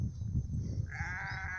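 Farm livestock, goats or sheep, on a plot in the northeastern Brazilian backcountry, bleating in a couple of nasal, wavering calls that swell in the second half over a steady low background rumble.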